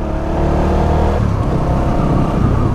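A Honda Winner X motorcycle engine running on 10W30 oil, a loud, steady idle with a constant mechanical whir close by and no talk.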